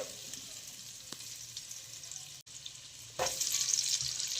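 Ginger and garlic fry in a pan as the start of a squid chilli, giving a steady soft sizzle that grows louder and brighter near the end after a brief stir.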